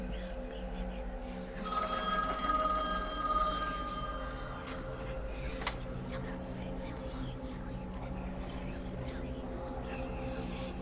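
A telephone rings in The Medium video game, a bright electronic ring lasting about two seconds over a low ambient hum, followed by a sharp click and quiet background noise.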